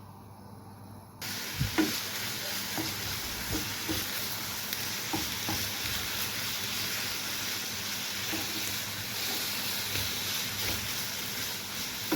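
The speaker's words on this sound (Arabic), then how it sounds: "نبدا نقليو الفيونداشي تاعنا، نقليوه مليح حتى يطيب" Fioundachi fries in a pan, a steady close sizzle with occasional stirring scrapes and clicks throughout, no voices over it.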